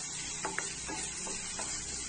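Pineapple cooks in a pan over a flame, with a soft continuous sizzle and a few light scrapes of stirring coming through at a low, close level.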